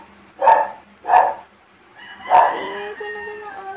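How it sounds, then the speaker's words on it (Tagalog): A household dog barks three times, two quick yaps followed by a longer howling bark that trails off, with a faint electric fan humming steadily underneath. "Aso namin yun."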